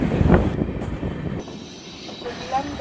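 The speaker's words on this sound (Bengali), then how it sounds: "এখন আমরা ট্রেন স্কিপ করছি কাঙ্কিনাগা রেলওয়ে স্টেশন।" Kolkata–Sairang Express train running through a railway station, heard from on board as a rumbling rattle with wheel noise that swells and eases over a few seconds, while a voice speaks nearby.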